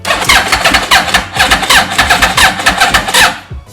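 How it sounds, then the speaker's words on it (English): A Yamaha R1 motorcycle engine cranks without firing, the starter churning in a fast, even rhythmic chug for nearly four seconds, loud and close, never catching. "right now it's not firing at all. It just turns over."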